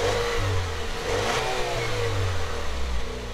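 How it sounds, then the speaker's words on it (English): A 2018 Buick Regal TourX with a 2-liter turbocharged four-cylinder revs up and settles, a continuous loud engine drone rising and falling in pitch, close by with no talk. "This 2-liter turbocharged 4-cylinder engine pumps out 250 horsepower and 295 pound-feet of torque."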